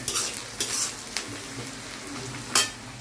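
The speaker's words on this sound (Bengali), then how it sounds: "এদিকে পেঁয়াজ ভাজা হতে হতে" Onion fries in oil in a pan with cardamom, cloves, cinnamon and bay leaf while a utensil stirs it, producing a steady close sizzle broken by several sharp scraping clinks against the pan.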